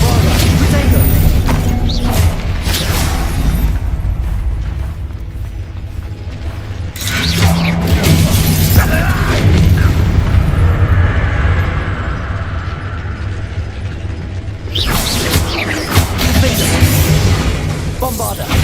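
Spell blasts from the Hogwarts Legacy video game crash and boom in quick succession, loud and dense with shattering, mechanical debris noise, in bursts spread over the stretch.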